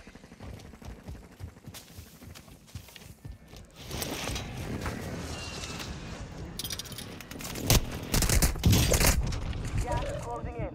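Gunfire in Call of Duty: Warzone 2.0, a muted stretch of distant shots and movement giving way to louder bursts of rapid fire with sharp reports near the end, voices heard under the action.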